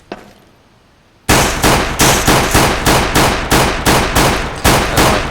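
Rapid, evenly spaced gunshots from a Counter-Strike map, about a dozen loud cracking reports in a steady rhythm after a brief quiet start, close and punchy with no talk.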